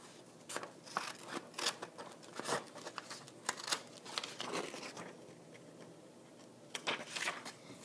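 Scissors snip repeatedly in quick, uneven bursts while material is cut for a homemade pet cage, close and fairly quiet with no talking.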